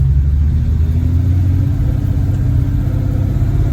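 A Valiant's 245 Hemi engine fitted with triple Weber carburettors drones steadily at about 2000 RPM in second gear on a road test, a loud continuous low rumble heard up close from start to finish.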